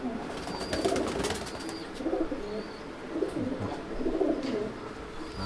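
A young female Andhra pigeon coos in soft, repeated bursts while being handled, with faint rustling between the calls.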